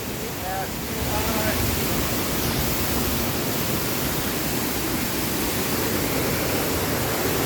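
Longfeng Waterfall in Nantou, Taiwan roars with a loud, steady rush of falling water that fills the whole stretch, with a brief faint voice near the start.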